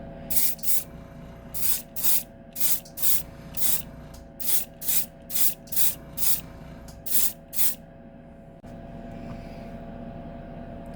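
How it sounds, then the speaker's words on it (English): A spray gun lays a top coat of paint on the hood of a 1971 Dodge Demon street stock car. About a dozen short, evenly spaced hissing bursts are followed by a steadier low hiss, with no talking. "we're going to go ahead and apply our top coat"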